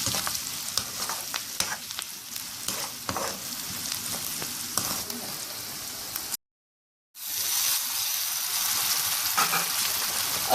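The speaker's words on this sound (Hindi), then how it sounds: "अब ये सारी चीज़ें हम अच्छे से फ्राई कर लेंगे" Chicken chukka frying with red chili, turmeric and salt, a steady close sizzle broken by scraping stirs, cutting out briefly before the loud hiss resumes.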